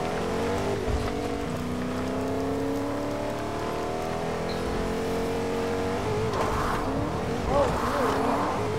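A truck engine in a video game drones steadily with rising and falling pitch as it drives, a continuous motor hum with some revving near the end.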